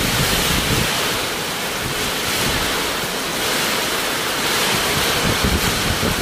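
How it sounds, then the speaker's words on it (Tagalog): Strong coastal wind buffets the microphone at Pandan, Catanduanes, a loud, continuous roar mixed with surging surf, steady throughout without pause. "Mahangin na naman."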